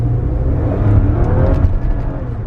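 A 2015 Lexus ES350 sedan accelerating hard with its front wheels losing traction, a steady loud engine roar and whir heard from inside the cabin for a few seconds, no talking.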